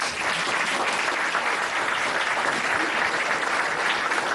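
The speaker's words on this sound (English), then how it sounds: "A hand of applause, please." At a police Diwali celebration, an audience claps in a dense, sustained burst of applause that stays steady and fairly loud throughout, with no one speaking over it.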